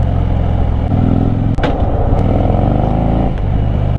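A Harley-Davidson Fat Bob Dyna motorcycle rides a mountain road in Sirmaur district, Himachal Pradesh, its engine loud and close with a steady throbbing rumble, brief gear-change dips and small clatters.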